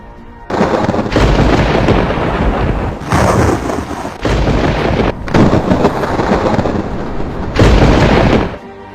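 Loud, deep rumbling bursts of thunder during a heavy storm in Hubei, China, roll in several long waves, each lasting a second or two, with brief quieter gaps between them.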